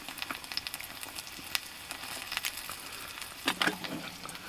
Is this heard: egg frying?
yes